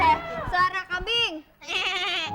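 A person imitates a goat's bleat with a wavering, nasal voice, two drawn-out quavering calls up close, the second one brighter, during a playful game of copying animal sounds.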